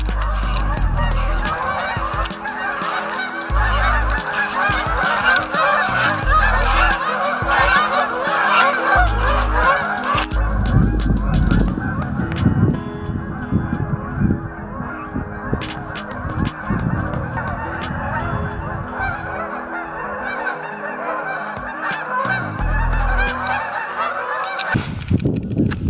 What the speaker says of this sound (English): There's a ton of geese right there.